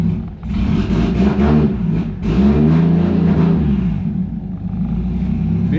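A Toyota A70 Supra with a JZ engine swap runs steadily with a low, rumbling hum, swelling into a couple of revs that rise and fall, loud and close.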